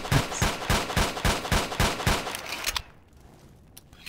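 Rapid bursts of gunfire in the video game STALKER, about eight evenly spaced shots, loud and close, ending abruptly with quiet background after.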